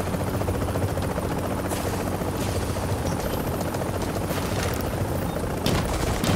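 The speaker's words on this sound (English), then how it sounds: "Here comes the chopper." A helicopter in The Division arrives for an extraction, its loud, steady rotor roar filling the scene with scattered distant gunfire bursts underneath.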